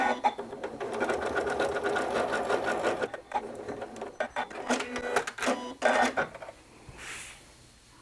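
A sewing machine stitching a wide zigzag down the middle of a quilt-as-you-go quilt block, running in a steady fast whir for about three seconds, then in shorter bursts before stopping.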